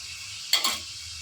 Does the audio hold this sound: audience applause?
no